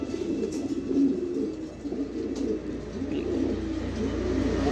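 Two young pigeons coo in low, repeated throaty rolls that pulse steadily close by, with no talking over them.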